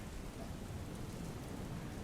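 Heavy monsoon rain pours over Valsad district in the Madhuban dam catchment, a dense, steady roar of rainfall that stays constant and close throughout with no voices.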